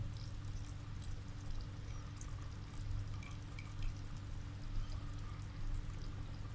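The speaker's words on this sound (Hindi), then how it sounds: "अब हम लास्ट में इसमें डालते हैं क्रीम, फ्रेश क्रीम" Fresh cream, about 100 ml, is poured into a pot of almond white chicken handi, giving a soft, steady liquid pour that sits low and fairly faint against background hum.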